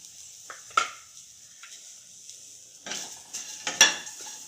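Grated coconut sautéed in a kadai for a south Indian coconut jamun sweet, heard as quiet, sparse scraping and clinks of a spoon against the pan with faint sizzling in between, close and mostly soft.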